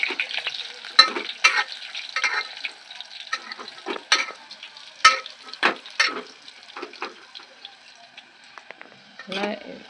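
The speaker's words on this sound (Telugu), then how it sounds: "ఇప్పుడు మనం సోయాబీన్స్ని ఇలా వేపుకోవాలి." Soybeans frying in about three spoons of oil, stirred often so the irregular scrapes and crackles come in bursts over a soft sizzle, with a voice talking throughout.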